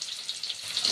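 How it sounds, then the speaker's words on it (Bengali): Chopped garlic and chili fry in a small amount of oil, a steady close hiss of sizzling with no voices. "রসুন কুচিটা আগে ভাজাও।"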